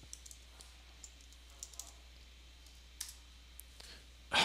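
Sparse keyboard clicks tap out on a computer keyboard, scattered single and paired keystrokes in a quiet room with steady low hum beneath.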